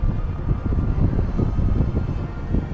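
Wind blows across an evening via ferrata climbing route at Türkensturz in Austria, a continuous low, gusty rumble buffeting the microphone, with no voices.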